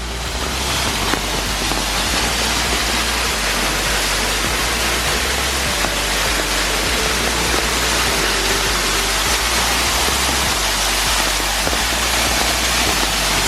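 A waterfall pours steadily beside a temple carved into limestone, its broad, constant roar filling the scene at close range with no voices over it.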